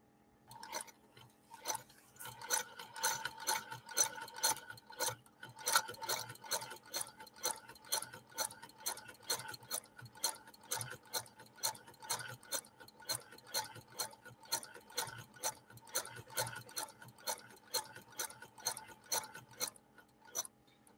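A 1948 Frister & Rossmann sewing machine being hand-cranked, giving a steady, fast run of close mechanical ticks and clatter that carries on evenly for about twenty seconds, with no talk over it.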